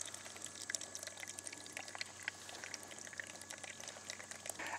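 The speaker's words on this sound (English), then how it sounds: "Here's the output of the ram pump with a PVC drive pipe." Water streams from a ram pump output fed by a PVC drive pipe into a measuring cup, a steady close splashing flow with bubbly drips, continuous and alone.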